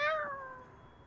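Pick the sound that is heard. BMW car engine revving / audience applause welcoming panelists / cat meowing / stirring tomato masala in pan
cat meowing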